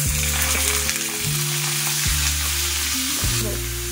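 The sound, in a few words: finely chopped eggplant frying in hot oil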